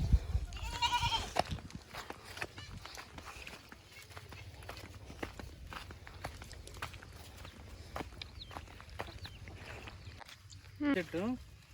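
Goats bleat on a village farm, a nasal call early on and another near the end, heard over steady background noise while a person talks.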